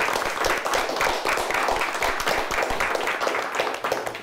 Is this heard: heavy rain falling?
no